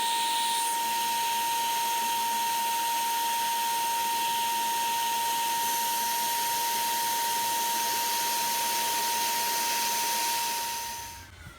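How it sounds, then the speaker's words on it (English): A Dremel rotary tool grinds a scratch round, a steady high-pitched whine held at constant speed for about ten seconds before spinning down at the end. "we're gonna use Dremel. Make sure you put this type of head and starting to ground it"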